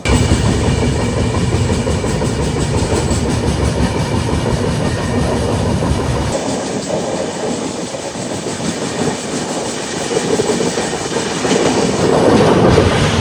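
The Raptisagar Express rumbles loudly with a rhythmic clatter of wheels on rails; midway the low roar thins as it slows into Vijayawada station.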